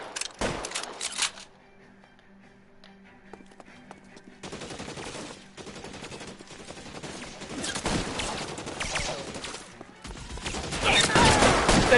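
Gunfire in the video game LA Noire: rapid machine-gun bursts and sharp shots in loud clusters, broken by a quieter stretch of low background hum before the firing returns heavier toward the end.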